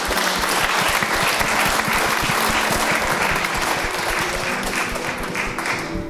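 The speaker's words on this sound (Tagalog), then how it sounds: "Pwede ba tayong pumalakpak sa Panginoon?" A church congregation claps for the Lord during a Filipino worship service, a steady, full wash of applause lasting about six seconds with no voices standing out.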